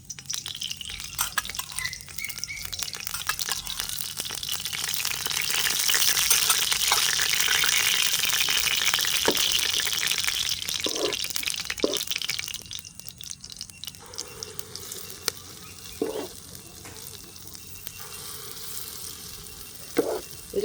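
Kundu dosai batter frying in sesame oil in a pan, with a broad steady sizzle that swells in the middle and then eases, broken by a few soft clinks and taps of utensils.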